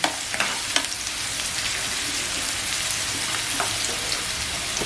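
Slit green chillies and curry leaves fry in hot oil in a pan for a squid tawa-fry masala, a loud, constant close crackling sizzle with a few sharp pops.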